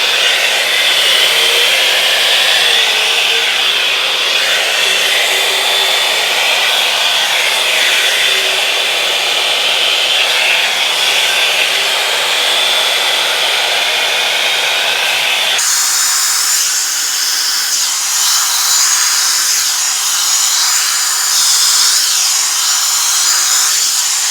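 A Revlon Plus One-Step hair dryer volumizer runs on its medium heat setting on curly hair, a loud, steady whirring blow close by that shifts to a slightly different pitch partway through and continues without a break.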